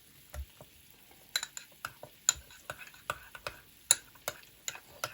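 A sauce mixture of ketchup and yogurt being stirred in a bowl, a quiet series of sharp intermittent taps and scrapes from the utensil, spaced irregularly against near silence.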